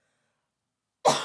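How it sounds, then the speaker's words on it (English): A woman gives a single sharp cough that bursts in loud and close after a second of silence, then trails off quickly. "I keep having a cough."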